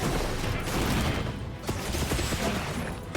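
A gunlance in Monster Hunter Wilds fires a full burst into a wyrmstake, making a dense, continuous barrage of booming blasts and metallic mechanism clatter that fills the whole stretch.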